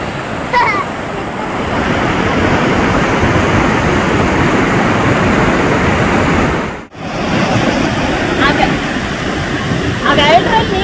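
Water rushes steadily through the open central dam gates as a loud, continuous roar with wind buffeting the microphone and a brief dropout midway.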